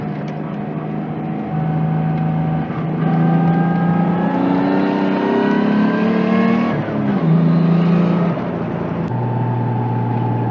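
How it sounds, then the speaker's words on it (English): A loud RB20DET engine in a Nissan S13 240SX revs hard and climbs in pitch through several gear changes, whining up to high revs close to the listener. "That high revving RB20."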